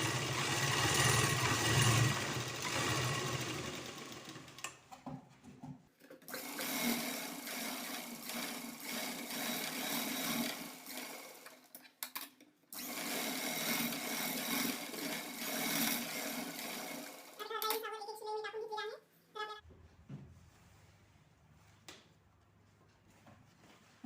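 Sewing machine stitching the fitting seam of a plain blouse, a steady close mechanical whir running in long bursts with short pauses between runs and a brief change in tone near the end.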